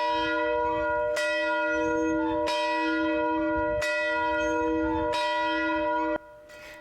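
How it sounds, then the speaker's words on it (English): A large church bell rings outside St. Joseph Catholic Church in Kennewick, struck about five times at a slow, even pace, each loud strike leaving a long humming ring that runs into the next before it cuts off near the end. "ringing the large bell outside St. Joseph Catholic Church in Kennewick"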